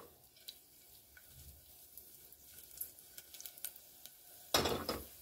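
Crushed black and green cardamom with whole spices hit hot oil in a pan for chole, giving soft scattered crackles and then a sudden loud sizzle near the end.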